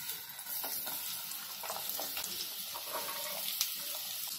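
Oil heating in a pan for egg masala, a steady soft sizzle and frying hiss with faint stirring and clinks, close and continuous with no talk.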